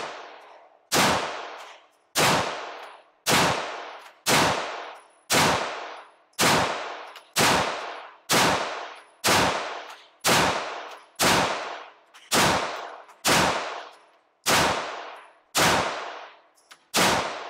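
Staccato XC pistol firing 124 grain rounds in a steady string of sharp, loud shots roughly every second, each with a bright ringing decay, no talking.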